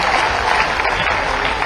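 Audience applause at a ceremony in Bhopal honouring sports talent, greeting the Chief Minister: dense, steady clapping from a large crowd throughout, loud and continuous with no gaps.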